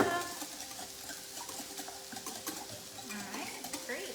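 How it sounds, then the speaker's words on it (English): Eggs whisked in a bowl to break up the yolks for a patty pan squash breakfast, heard as quick, close, rhythmic clicking and scraping of a whisk against the bowl. "I'm going to whisk this up,"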